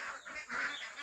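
A flock of ducks at a duck farm quacks continuously, overlapping calls forming a dense, steady chorus at moderate distance with no talk.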